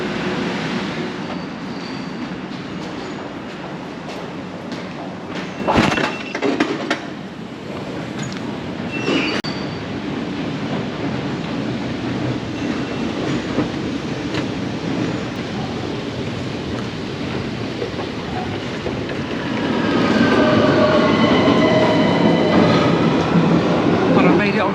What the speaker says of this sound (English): Onto the first train. This is the Victoria line.